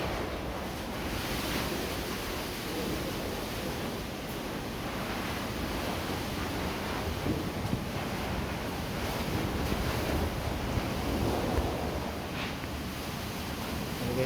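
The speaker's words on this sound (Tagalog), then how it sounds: "Ang pininghinay na ulan." Rain easing off outside a house battered by Typhoon Tino, a steady broadband hiss of falling water mixed with gusty wind, fairly even throughout with no clear individual drops.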